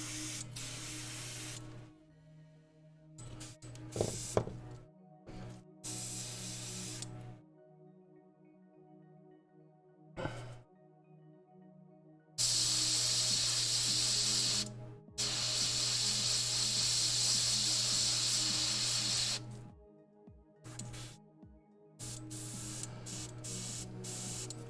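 Airbrush with a 0.15 needle spraying paint for miniature painting, bursts of sharp hissing spray that start and stop repeatedly, some long and loud, with quiet gaps between.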